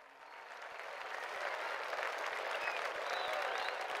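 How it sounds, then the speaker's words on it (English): The faithful gathered in a candlelight vigil around the Colosseum in Rome applaud in a sustained crowd clapping that swells slightly. It is heard from a moderate distance, with no voices over it. "You can hear the applause of the faithful gathered in candlelight vigil around the Colosseum in Rome."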